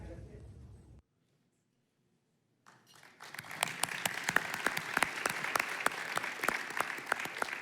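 Audience applause fills a gala hall at a business hall of fame ceremony, building after a brief silence into dense, sustained clapping from a large crowd.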